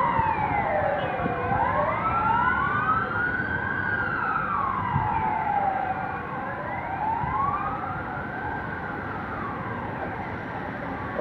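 Wailing ambulance siren at a fire response beside a school entrance in a dense residential area, rising and falling steadily and loud throughout, over a low rumble of traffic with no speech.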